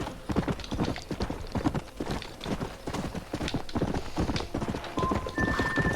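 Horse hooves in the Red Dead Redemption video game beat out a fast, steady galloping clip-clop, close and prominent throughout, with a brief thin tone near the end.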